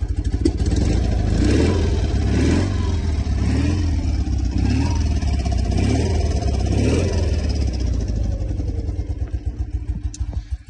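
A motorcycle with chromed exhausts idles and revs steadily near the microphone, its engine pulsing in a loud continuous rumble with periodic swells, no voices over it.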